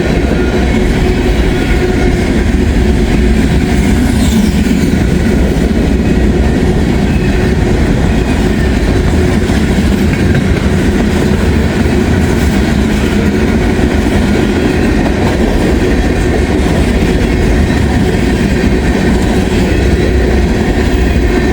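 A long train, X506, rolls past close to a house in Walton, a loud continuous rumble with rhythmic wheel clatter and occasional faint squeals, sustained throughout with no talking.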